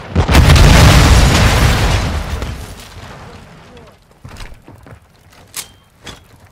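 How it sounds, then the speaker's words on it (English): A flash grenade goes off in the Call of Duty: Modern Warfare II video game with a loud, booming blast that rumbles for about two seconds and then fades, followed by scattered smaller pops and clatter. "Throwing flash grenade!"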